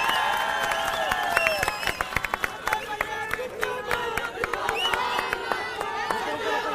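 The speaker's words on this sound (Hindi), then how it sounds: "जोरदार तालियों से स्वागत करिए" A crowd claps and cheers in a loud, sustained burst of welcome for an arriving speaker at a political press conference held after a release from Tihar jail, with sharp clap transients and excited voices throughout.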